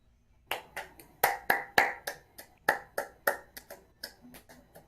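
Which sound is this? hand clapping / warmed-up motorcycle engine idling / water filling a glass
hand clapping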